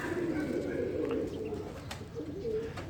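A handheld pigeon coos in low, soft throaty warbles, close and fairly steady, over someone talking and light background noise.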